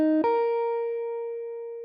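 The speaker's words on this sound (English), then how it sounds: "So I used a pretty basic guitar sound, and I just came up with a melody that sounds like this" A basic indie-rock guitar tone, drenched in heavy reverb, plays two quick notes that shift pitch and then ring out in one long, slowly decaying sustain, with no one talking.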